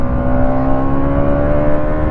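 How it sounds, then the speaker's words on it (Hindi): A 2023 Bajaj Pulsar NS200 motorcycle running on E20 fuel holds its engine at full revs against the RPM limiter, giving a loud, steady, buzzing drone close by with slight pulsing and no speech. "जैसे अपन अगर फुल आरपीएम पर बाइक को चलाएंगे ना तो देखो"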